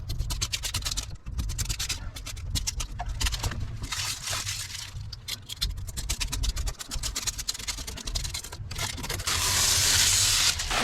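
Scraping dry, sun-rotted purple tint off a 1971 Chevelle's rear window: continuous close scratchy rasping in quick repeated strokes, steady and fairly loud, ending in a harsher, denser scrape.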